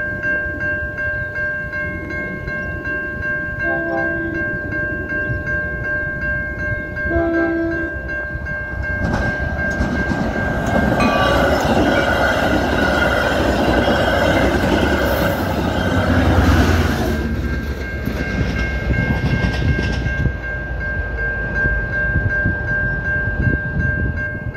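A train passes a railway crossing in Illinois, USA. Steady crossing bells ring at first, then a loud rumble of rail cars builds and sweeps past close by with a horn blast midway, and the roar continues to the end.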